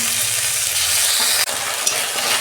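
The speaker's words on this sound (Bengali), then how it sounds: "পেঁয়াজ দিচ্ছি আমি অল্প, আদা রসুনের পেস্ট দিচ্ছি আমি 1 চামচ।" Onion and ginger-garlic paste frying in hot oil, a loud, close, continuous sizzle with a brief dip and one small clatter partway through.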